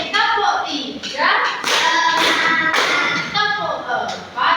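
Children clap their hands together in a classroom rhythm game led by a teacher, with sharp, fairly loud, close claps in quick bursts and young voices chanting along.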